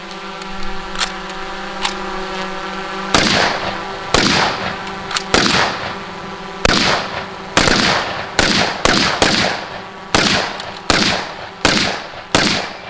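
Live fire from M1 Garand and M1 Carbine rifles on a shooting range: a dozen or so loud, sharp gunshots cracking at irregular intervals over a steady mechanical hum.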